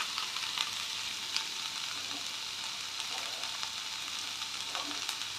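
Curry leaves and coriander fry in hot oil for a Kadamba chutney, a steady close sizzle with a few faint crackles and pops throughout.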